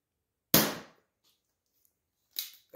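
A modded Nerf blaster fires darts in sharp, loud, close snaps: one crack followed by a short decay, a long silence, then two more quick shots near the end.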